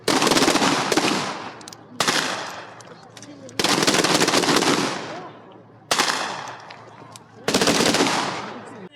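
Automatic gunfire at a military open-day weapons demonstration by a mountain assault brigade: several long, loud bursts of rapid shots, each a second or two, separated by short pauses with echoing decay, close and sharp.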